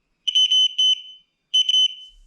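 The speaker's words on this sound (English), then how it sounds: "This one is the electronic one that has the buzzer in it." An electronic buzzer in a Toolmaster pipe centre finder sounds in two loud, shrill bursts, each made of several rapid pulsing beeps, separated by a brief silence.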